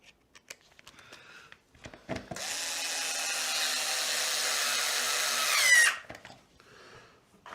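A cordless power driver runs steadily for a few seconds, driving the two underside screws into a Traxxas Slash RC car chassis, preceded and followed by light clicks and handling of plastic parts.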